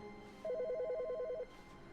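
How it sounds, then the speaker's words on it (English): A telephone in The Stanley Parable gives one fast trilling ring burst about a second long, fairly clear over quiet background music. "Oh, there's a phone call. Which phone is that?"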